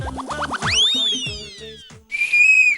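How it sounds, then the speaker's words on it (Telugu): A woman on a Telugu TV game show blows a loud, close whistle in rising, bouncy slides that end in a long steady high tone. "ఆవిడ విజిల్ వేస్తుంది"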